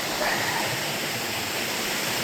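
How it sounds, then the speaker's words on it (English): Waterfall in an Alberta canyon, a steady broadband roar of rushing water filling the space evenly and close, with no break or change throughout. "let's show the waterfall"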